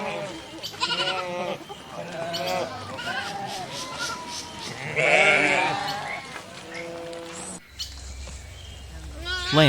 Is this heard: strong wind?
no